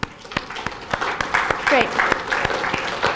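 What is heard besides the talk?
audience clapping hands randomly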